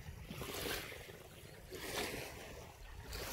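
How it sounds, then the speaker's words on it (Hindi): Floodwater from Mangla Dam rushing into Thanpal village near Dadyal, a loud, steady broadband roar of churning water with gusty wind noise swelling and easing throughout, no voices. "बड़ा पानी आया जी बड़ा पानी"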